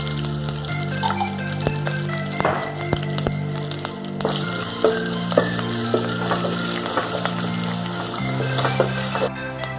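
Ginger and garlic frying in a pan for tomato dal, giving a steady close sizzle with small crackles and occasional stirring scrapes, and no voices over it.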